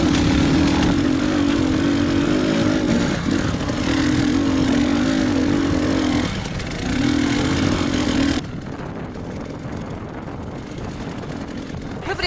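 Enduro motorcycle ride to a hard enduro race start: a loud, steady engine drone held close for about eight seconds, briefly easing near six seconds, then dropping to a quieter, rougher rumble.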